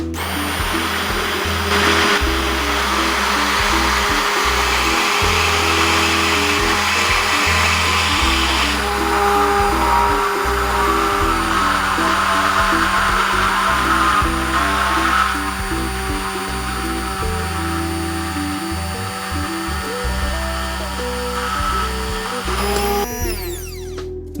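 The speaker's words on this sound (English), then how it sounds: "Now take a hand blender and start to blend from the bottom." A hand blender whirs through egg, vinegar, salt, pepper, smoked paprika and corn oil, emulsifying them into mayonnaise. It makes a loud, continuous motor drone with slight shifts in pitch for about 23 seconds, then cuts off abruptly.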